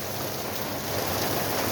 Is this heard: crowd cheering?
no